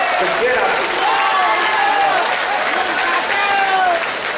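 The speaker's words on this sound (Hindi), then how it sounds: "एक बार तालियां बजा करके मुझे इजाजत दीजिए" A crowd at a poetry recital at Lal Qila breaks into sustained applause, with tonal voices or cheering riding over the continuous clapping.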